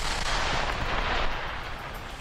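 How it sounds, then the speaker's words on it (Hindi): A controlled detonation of unexploded Russian bombs buried in a large pit produces a loud, rumbling blast with a broad roar that lingers and slowly fades. "जैसे ही उन सभी बमों को धमाके में उड़ाया गया"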